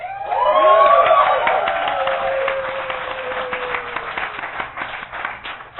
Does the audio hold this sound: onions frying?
no